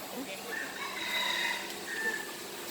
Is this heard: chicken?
yes